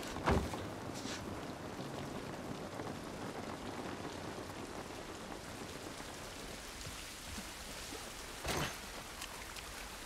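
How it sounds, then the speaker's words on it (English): Steady rain pours down in The Last of Us Part 1, a dense continuous hiss with a couple of sharper nearby bursts, heard alone without talk. "This rain ain't gonna do us any good."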